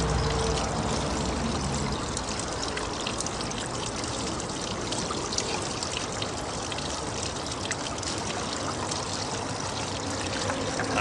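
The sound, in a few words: spooning gold-bearing material into a gold wheel with water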